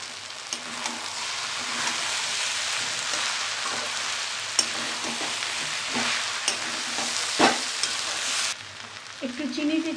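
Ground cumin and garam masala frying in hot oil in a pan while being stirred, a constant close sizzle with occasional sharp spatula scrapes, ending abruptly in a quieter clatter.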